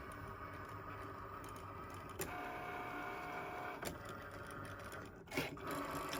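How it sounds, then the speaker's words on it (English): A Cricut Maker cutting machine works through heavy cardstock, its motor whirring steadily with soft mechanical ticks and a few brief louder carriage movements, close by and without talk. "this is a Cricut Maker, and now it's just going to cut around everything"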